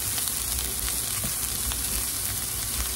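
A burger patty cooking in a pan sizzles in a dense, even hiss that stays constant and close, with no talking over it.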